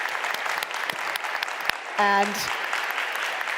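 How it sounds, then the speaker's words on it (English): An audience at a live energy conference applauds warmly, a thick, even patter of many hands that continues throughout, with a short tonal honk partway through and a voice briefly speaking over the clapping. "Let's give them a warm round of applause."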